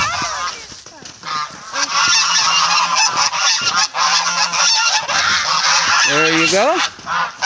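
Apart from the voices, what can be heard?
geese honking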